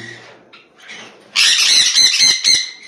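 Pet conures, java sparrows and lovebirds at a home breeder's sale, opening with softer chirps and then breaking into loud, close, rapid squawking calls that fill the second half.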